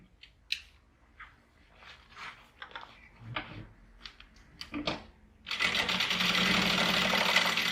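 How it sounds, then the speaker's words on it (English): Sewing machine stitching box corners on a fabric pouch, preceded by scattered clicks and handling noises, then a loud steady motor run for the last couple of seconds, close and alone. "you can sew 2 rows of stitching along these box corners"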